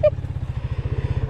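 A motorcycle engine idling or running close by, a rapid regular low putter of firing pulses with a brief voice-like tone at the very start.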